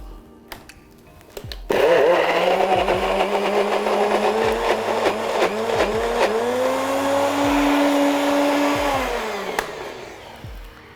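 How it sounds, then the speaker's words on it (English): A blender whirring prawns and egg whites into a mousse, starting abruptly with a loud motor whine that holds steady, rising and dipping slightly as it churns, then winding down toward the end. "Literally in the blender, you can see it's coming out into a mousse."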